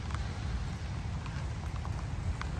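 Rain falls outside a parked car in a steady, soft hiss with light scattered drop taps, continuous and even from start to finish.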